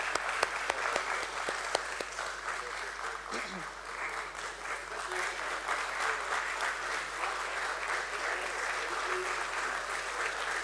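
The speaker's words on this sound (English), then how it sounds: "Let's give applause, everyone." Crowd applause at the Arkade Developers Limited listing ceremony at BSE during a memento presentation, dense steady clapping sustained throughout with voices faintly underneath.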